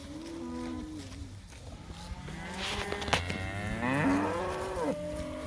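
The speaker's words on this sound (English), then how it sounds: "Boy, there's a beautiful steer." Cattle on a pasture moo loudly in long, drawn-out calls that overlap across the herd, with several lowing voices near and mid-distance over a steady outdoor background.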